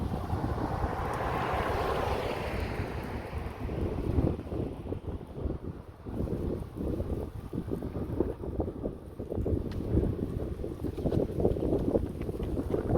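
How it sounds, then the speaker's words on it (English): Strong wind in Camp Verde, Arizona buffets the microphone in a constant low roar with gusty rumbles, loud and close throughout. "A little bit windy today, which is not too uncommon for Camp Verde."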